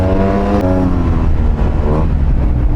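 A Yamaha TMAX 750cc scooter engine revving hard and close, a loud buzzing drone that climbs in pitch, dips briefly and rises again.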